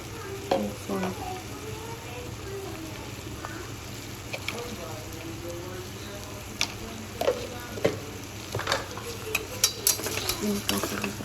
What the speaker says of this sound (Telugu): కాసేపు ఫ్రై చేసి అయితే మంచిగా ఫ్రై అయ్యి ఆయిల్ కూడా సెపరేట్ అవుతుంది.